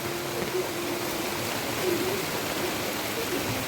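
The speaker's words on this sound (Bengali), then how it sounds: "এসে দেখি না যে এখানে কত বৃষ্টি পড়ছে" Heavy rain falling on a cloudy day, heard as a continuous dense hiss and patter, steady and fairly loud, with no talking.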